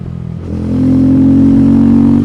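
A 2024 KTM 390 Adventure with a small 17-inch front wheel rides past up close, its single-cylinder engine throbbing and then rising in pitch as it accelerates, loud and steady through the end.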